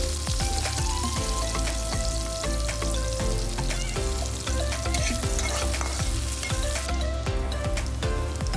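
Sliced onions fry in hot oil in a wok for a fish curry, a loud continuous sizzle with frequent clinks and scrapes of stirring close by.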